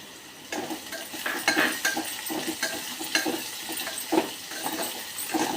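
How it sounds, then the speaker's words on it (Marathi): Garlic and green chili sautéing in a pan for Maharashtrian tempered dal, a crackling sizzle broken by repeated clinks and scrapes of a spoon against the pan, close and moderately loud. "आता आपण हे दोन मिनटं परतून घेऊया"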